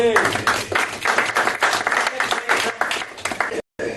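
Audience applause for a volunteer at a hypnosis comedy show, a dense crowd of claps with cheering and a voice over it for about three and a half seconds, then a brief dropout before it resumes.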